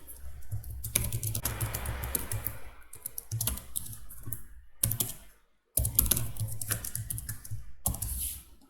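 Code is being typed on a computer keyboard in quick bursts of close, crisp key clicks, with short pauses between runs and a brief silent gap partway through; nobody speaks.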